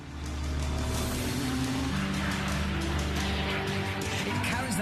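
A Radical race car accelerates hard during a race against a plane, its engine a loud, sustained roar that rises and shifts in pitch, heard close and alone.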